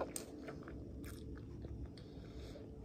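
Someone chews a soft, fluffy salted caramel marshmallow close up, with quiet wet bites and squishy chewing sounds at low volume and no talking.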